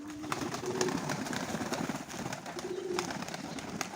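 Pigeons coo in soft low repeated phrases over a steady background murmur, with occasional faint clicks and rustles.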